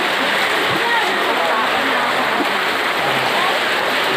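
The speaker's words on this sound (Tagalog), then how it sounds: "ang lakas ng agos oh." Strong floodwater current from a typhoon rushes in a steady, loud, unbroken roar, with a voice speaking briefly over it.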